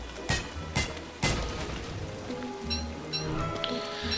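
Rain in the survival video game Don't Starve, a steady hiss of falling rain with a few louder splashy bursts near the start, over faint background game sounds.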